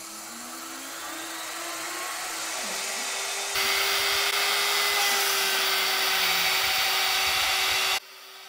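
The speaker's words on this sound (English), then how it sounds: "we are ready to click the big green run button and watch the CNC" A CNC router cutting a wooden workpiece gives a steady, loud high-pitched whine with a constant tonal hum that jumps louder partway through as the bit engages, then stops abruptly near the end.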